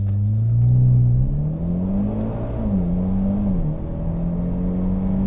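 A Mitsubishi Evo X engine accelerating hard from inside the car, a loud steady rising drone that dips briefly as the transmission shifts up a gear, then climbs again.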